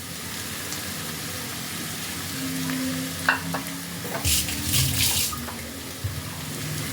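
Mashed paneer, about two hundred grams, stirred in a pan over a low gas flame for stuffed Kashmiri aloo dum, with soft scraping and a gentle sizzle, brief clinks near the end and no talk.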